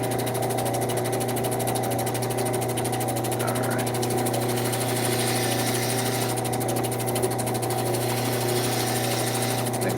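Cabbing machine grinding a bevel on the bottom of a turquoise stone, a steady motor hum with a constant grinding drone throughout, close and unchanging.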